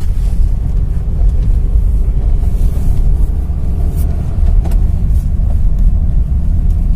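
Inside a moving car, a steady, heavy engine rumble drones on at moderate road speed around a gear change into third, loud and continuous with no voices.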